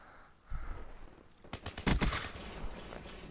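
HG-40 submachine gun in Black Ops 3, a quiet opening followed by a single shot and then a rapid burst of automatic fire, loud and close, trailing into faint reverberation.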